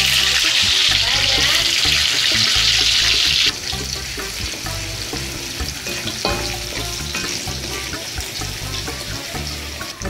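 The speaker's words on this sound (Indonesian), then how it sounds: "Sekarang kita tumis bawang merah dengan bawang putih." Shallots and garlic sauté in a hot pan while cooking flat rice noodle stir-fry, a loud, close, continuous sizzle with scraping stirs, the hiss easing a little partway through.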